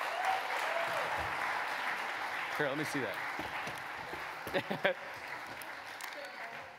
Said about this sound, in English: I give these guys a round of applause.